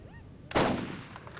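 A single loud gunshot in Borderlands cracks close by and decays into a short rumble, followed by fainter clicks and smaller shots.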